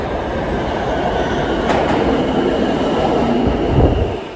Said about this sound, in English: wait for another 5 minutes for the next E train to come take us along to 48th Street